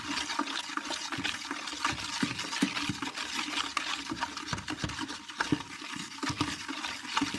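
Eight litres of water run and splash into soap powder in a container, a steady, close, rushing pour with bubbling churn that carries on without pause and no voices.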